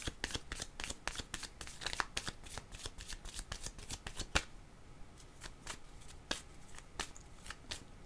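Playing cards shuffled during a card reading, a steady run of crisp riffling snaps and flutters close up, repeating quickly over several seconds with a brief pause midway, no voices.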